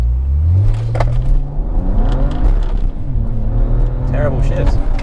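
A BMW E92 335i with the N54 engine accelerates hard, its engine note climbing loud and close through rising sweeps that break at gear changes, with people talking over the noise.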